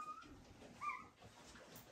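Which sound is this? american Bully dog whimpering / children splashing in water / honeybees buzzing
american Bully dog whimpering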